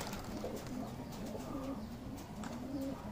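A flock of Madrasi pigeons in Gurgaon coos softly, with repeated low murmuring calls over steady outdoor background noise at moderate distance.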